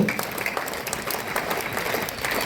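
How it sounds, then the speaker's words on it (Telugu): An audience at a Republic Day school event claps in a steady, dense patter of many hands, close and continuous for a few seconds, with faint voices mixed in. "please clap all of you"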